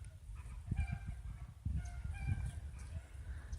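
Chickens clucking from a farm field beyond a line of pines, a cluster of agitated clucks and squawks at a distance, faint against outdoor background, in two short bursts.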